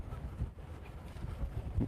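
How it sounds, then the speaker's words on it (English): Heavy wind buffets the microphone in constant low rumbling gusts outdoors in Copenhagen, Denmark, loud and steady throughout with no other clear sounds. "You can probably hear it, it's really windy now"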